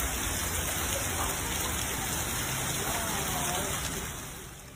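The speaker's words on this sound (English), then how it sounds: "Up to 1¼ inches of rain have fallen in Henderson, Anthem, Green Valley, Paradise, Enterprise, and Silverado Ranch." Heavy rain pours down steadily during a storm with a flash flood warning around Henderson, a dense, loud, continuous hiss that eases slightly near the end.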